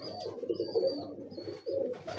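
Pigeons kept in pairs in a loft coo softly in short repeated phrases, close and fairly quiet, with brief gaps between calls.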